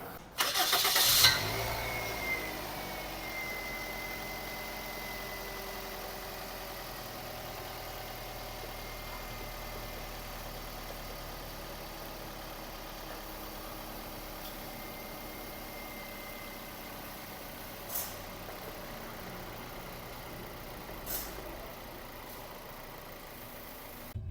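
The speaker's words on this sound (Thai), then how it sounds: "เอาสตาร์ทเครื่อง" A Toyota Vios engine cranks and catches with a loud burst up close, then settles into a quiet, steady idle heard at a distance in a roadside auto repair shop, with a couple of faint knocks later.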